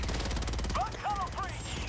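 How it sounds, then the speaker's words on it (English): A minigun in a video game fires a rapid, unbroken stream of shots, a dense rattling burst heard throughout at moderate level with faint whistling tones over it. "it's a minigun."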